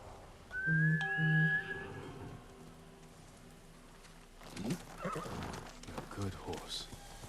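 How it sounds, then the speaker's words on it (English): A horse in the Ghost of Tsushima video game gives a loud whinny, with hooves clip-clopping and light ambient game sound; a person talks quietly afterward. "Good horse."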